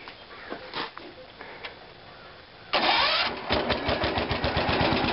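A small garden tractor engine, an International Cub Cadet 140, cranks, then fires up and settles into a loud, steady chugging idle close by.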